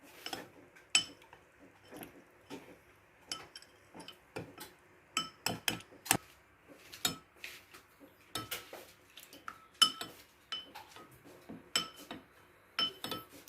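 A spoon clinks against a metal pot while khoya is stirred into hot milk, giving irregular, sharp metallic taps and scrapes in a loose rhythm against quiet background, close and fairly crisp.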